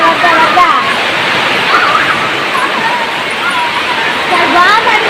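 Floodwater rushing past a village home during heavy rain, a loud, steady broadband roar with people talking over it throughout.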